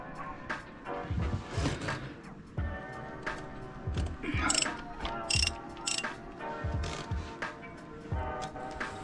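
Tools working on the alternator bolts of a Volvo MD 2030 marine engine, with a series of metallic ratcheting clicks and scrapes that come close and fairly loud, irregular and stop-start, with no speech.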